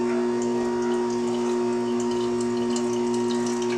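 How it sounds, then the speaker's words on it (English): A Jocuu slow masticating juicer grinds fruits and vegetables pushed down with a plunger, giving a steady, continuous motor hum with a low droning tone and faint wet churning throughout. "I use this plunger to kind of push it and force it down into the grinder, which is going to juice the fruits and vegetables here."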